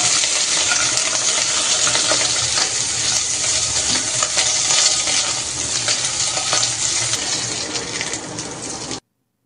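Halved mushrooms fry in oil for ramen, a dense, loud, continuous sizzle close up with scattered crackles and light scraping, steady throughout until it cuts off abruptly near the end.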